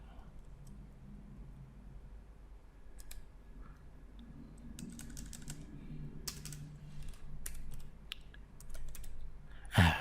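Computer keyboard typing while working in AutoCAD 2020, a run of sharp, close clicks and keystroke bursts over a quiet room hum, growing denser toward the end, with a low voice murmuring faintly in the background.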